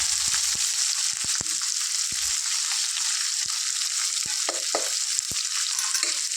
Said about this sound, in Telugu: దీన్ని ఒకసారి ఇలా ఫ్రై చేసుకున్నాను